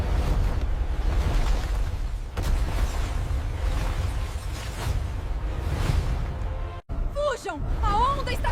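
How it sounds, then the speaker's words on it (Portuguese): Huge ocean waves rise like walls of water, a loud, continuous rushing and roaring surf with wind noise, shifting in waves of intensity; near the end, frantic voices shout over it. "os mares, antes serenos, ergueram-se como muralhas de água"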